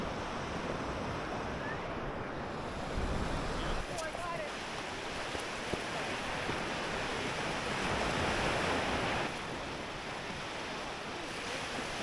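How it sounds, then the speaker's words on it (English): Surf washes onto a beach on Prince Edward Island, a steady broad roar with gentle swells and some wind buffeting the microphone, no voices heard. "The ocean's just over there."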